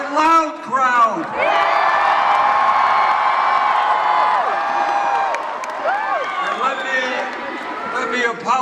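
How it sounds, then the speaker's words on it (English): A big rally crowd at the Washington Avenue Armory in Albany, NY keeps up loud cheering and chanting for Bernie Sanders, with massed voices rising and falling in shouted waves and some clapping over a steady roar. "And a very loud crowd."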